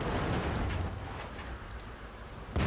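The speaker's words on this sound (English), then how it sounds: "Nails me with an HE round, taking out my gun or damaging it." Heavy cannon fire and high-explosive shell hits in a tank battle video game featuring an M56 Scorpion and a KV-2, a loud sustained rumbling roar that trails off, then a fresh blast at the end.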